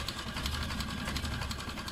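An old Mercedes with a 3-litre four-cylinder engine and engine trouble runs with a steady, rapid mechanical clatter and rumble, continuous and fairly quiet.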